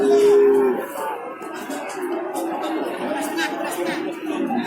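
Cattle at an East Java cattle market moo, with one loud, close low call at the start, amid a busy crowd murmur and chatter that carries on throughout.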